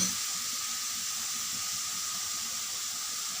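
Chicken sizzling as it fries in a kadai, a steady soft hiss with faint crackle, close and continuous with no voices.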